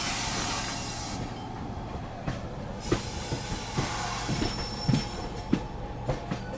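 A passenger train pulls away in parallel on the Delhi to Lucknow line, heard from aboard the Kashi Vishwanath Express as a steady rumble with irregular wheel clacks and a faint squeal.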